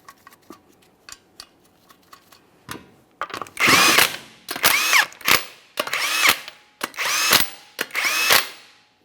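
Power tool spinning 21mm lug nuts onto a 2014-2018 Mazda 3 front wheel: a few faint ticks, then a series of loud, close, rattling bursts about a second apart as each nut runs down.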